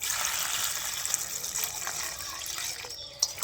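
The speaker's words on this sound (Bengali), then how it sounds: "আর কুলের মধ্যে অনেক কিন্তু ময়লা থাকে, তাই আমি জল দিয়ে খুব ভালো করে ধুয়ে নেব, 2-3 বার জল পাল্টে পাল্টে" Jujube berries being washed by hand in a bowl of water, a steady close wet swishing and trickling with small splashes, alone with no talk.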